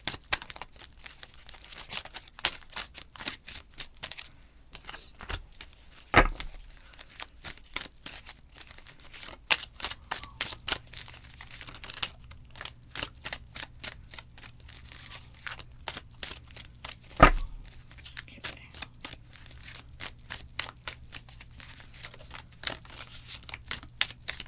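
A tarot deck, the Modern Witch Tarot by Lisa Sterle, is shuffled by hand in a quiet room, giving rapid papery riffles and soft crinkles with two sharper snaps along the way, fairly close and with no talking.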